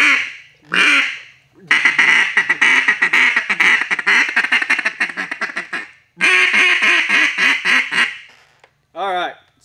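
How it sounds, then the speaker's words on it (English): A duck call, including a CQ2 double-reed acrylic model, blown by hand in a series of raspy quacks and rapid chattering bursts, loud and close, with stretches of talking between the calling runs. "we're just a couple average dudes blowing on duck and goose calls here"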